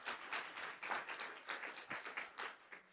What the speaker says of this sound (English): can everyone join me in giving Dr. Abrams a round of applause?